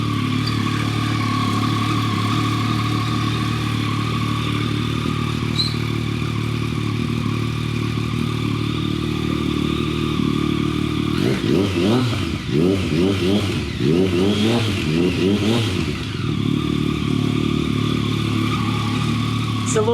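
A Yamaha XSR900 motorcycle fitted with an Akrapovic exhaust, started cold, idles with a steady low rumble, then is blipped through a few quick revs in the middle before settling back to idle. No one speaks.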